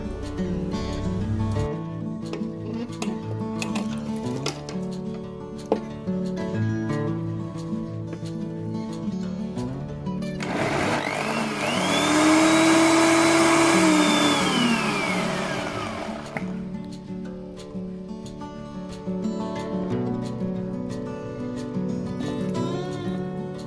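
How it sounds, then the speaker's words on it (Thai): A kitchen blender whirs loudly for about six seconds, its motor pitch rising then sagging as it purees stir-fried soup ingredients, between quieter stretches of cooking background. "ตอนนี้เราก็ ปั่นส่วนผสมทุกอย่างจนละเอียดแล้วนะคะ"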